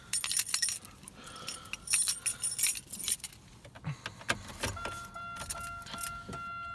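Keys jangle up close and then a 2003 Buick Century with 65,000 original miles cold-starts on a chilly day, its engine catching and settling into a steady idle with a faint whine.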